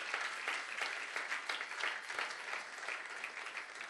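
A church congregation claps together in praise during a worship service, a dense, steady applause that carries on for the whole stretch without letting up.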